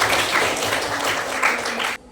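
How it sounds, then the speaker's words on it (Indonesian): Classroom applause for a chemistry lesson, a brief burst of dense clapping from a group of students that stops abruptly after about two seconds. "Oke, tepuk tangan."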